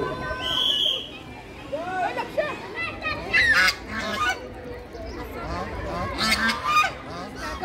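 Ducks or geese honk and quack in loud, irregular bursts at a farm picnic spot near Delhi, mixed with children's voices and crowd babble.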